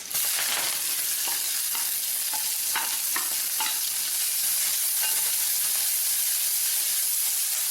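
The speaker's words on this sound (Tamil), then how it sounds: "வெங்காயம் நல்லா வதங்கட்டும்." Onions and curry leaves fry and sizzle in a pan with a steady hiss, broken by occasional stirring scrapes and clicks.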